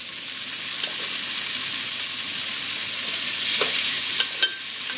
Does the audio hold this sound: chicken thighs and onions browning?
yes